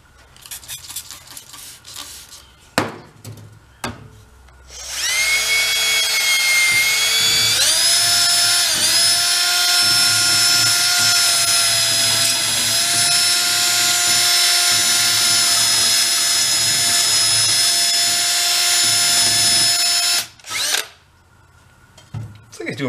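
A power tool polishing a Benelli Buzzer mini bike cylinder head spins up into a loud, steady whine with a rising pitch that holds for about fifteen seconds, then cuts out, with brief clunks and handling noises before and after.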